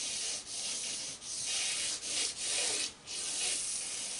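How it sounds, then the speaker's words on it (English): A 6B charcoal stick shades across paper in long, loud, continuous rubbing strokes, broken by brief pauses as it lifts between passes. "So I just want to take a 6B charcoal and start to mass in some value for the space tone."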